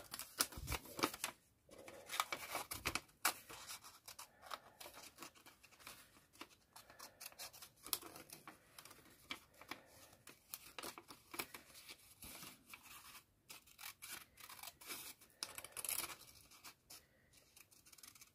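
Scissors snip through paper in quick irregular cuts, with rustling and crinkling of the sheets between snips, quiet and close.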